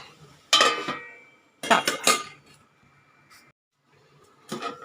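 A lid set on a cooking pot of bitter gourd, giving three or four sharp metallic clanks and rattles in separate bursts with quiet gaps between, close and clear, with no talking.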